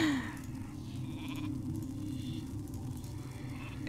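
A sheep in the Warcraft 3 video game gives a short bleat at the start over a steady game background.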